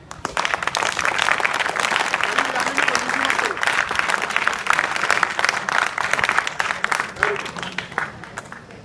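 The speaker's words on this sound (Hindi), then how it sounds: "उन दोनों के लिए ताली बजा दो।" Students in a school classroom clap together in sustained, dense applause lasting throughout, with some voices faintly mixed in beneath the clapping.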